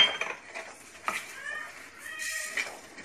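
Fenugreek seeds, cumin and carom seeds being stirred as they dry-roast in a pan for garlic pickle, light scraping and clinking of a spoon against metal with faint crackle, quiet and close, brief voices faintly present.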